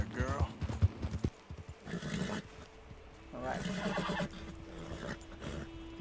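A horse's hooves clip-clop and it snorts or whinnies in Red Dead Redemption 2 while someone speaks over the game sounds, close and moderately loud.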